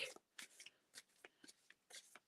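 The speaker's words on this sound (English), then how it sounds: "I shuffle the deck" A deck of playing cards shuffled by hand during a psychic reading, giving a string of six or seven crisp riffling bursts at an uneven rhythm, close and fairly quiet, with no voices.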